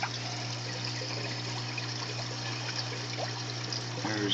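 Soft continuous trickle of water flowing through a PVC aquarium overflow kept running by an aqua lifter pump, under a steady low hum from the tank equipment.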